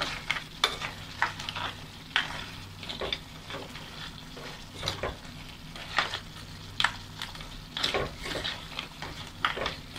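Crab curry with garam masala is stirred in a pan in the South Indian style, with a low steady sizzle under repeated rhythmic scrapes and taps of the spoon.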